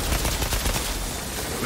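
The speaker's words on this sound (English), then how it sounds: "I like the power in this gun." Rapid automatic gunfire from a weapon in the video game Outriders, a dense, loud burst of shots that blur together across the whole short stretch, with no talking.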